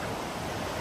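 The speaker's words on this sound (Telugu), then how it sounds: "గషింగ్ వాటర్ సౌండ్ ఎంత శ్రవణానందంగా ఉంది" Water gushes and roars at the Lower Falls waterfall, a dense, steady rushing wash that fills the brief moment close by with no voices.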